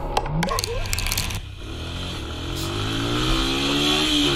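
A 150cc motorcycle rides along, its engine droning and rising steadily in pitch as it accelerates, loud and close, with brief clatter and a voice early on.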